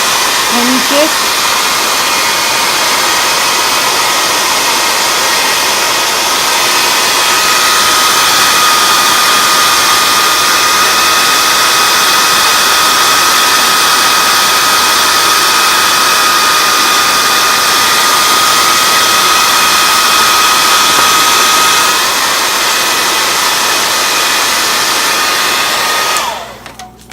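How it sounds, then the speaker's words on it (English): A hairdryer blows hot air onto plastic packaging in a long, loud, steady whirring rush with a faint whine, running close and unbroken before cutting off at the end. "the hairdryer is not the best thing to do."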